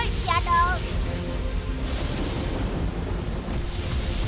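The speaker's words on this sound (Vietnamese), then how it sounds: "Polly, không dễ dàng đến gần hang bởi vì đang có sấm sét." A cartoon thunderstorm rumbles with a low, continuous roll of thunder and steady rain hiss, with a brief high musical chirp near the start.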